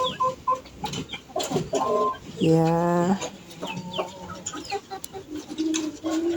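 A backyard chicken clucks in short bursts, with one longer drawn-out call in the middle, loud and close in a garden with rustling around it and a brief word spoken.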